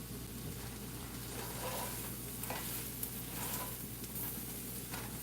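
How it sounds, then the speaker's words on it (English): Home fries stirred in a very hot pan, a low steady sizzle with a few soft scraping strokes, faint and close beneath a constant background hum, no voices. "So I'm just gonna give these a stir."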